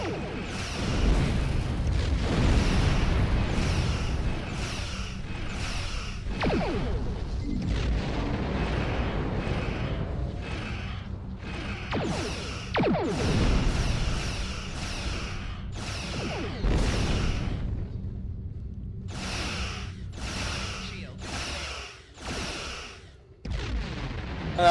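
Starship weapons fire in a space battle in Star Trek Online: heavy booming blasts and whooshing bursts come in rapid succession for about twenty seconds, loud and continuous with brief gaps.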